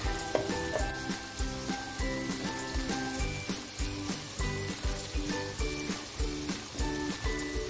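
Fried spice paste sizzles hard as 50 ml of water is poured in for a shrimp dish, giving a steady, close hiss with a rhythmic tonal backing of music throughout.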